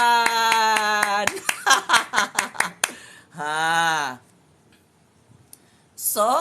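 A run of sharp, rhythmic hand claps at a political rally, loud and close, set between bursts of raised voices and chanting.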